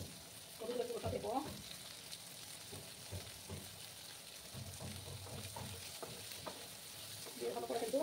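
Chopped tomato with turmeric sizzles softly as it is stir-fried in a pan, with bursts of scraping stirring at the start and end over a low continuous fry.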